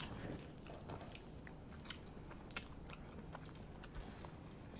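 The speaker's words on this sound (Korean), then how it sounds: "일단 먹어볼게요. 얹어가지고 해요." Close, quiet biting and chewing of brown sugar bubble pizza, soft crunches and moist smacks repeating irregularly over a steady low background hiss, with no talking.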